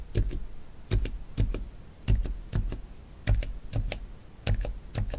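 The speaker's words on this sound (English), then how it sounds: "So silent switches have been around for a long time, but they've been mushy and kind of scratchy sounding." Gateron silent linear mechanical keyboard switches being typed on, producing close, fairly loud clusters of muted key presses in regular bursts of two or three strokes about once a second, with no voices.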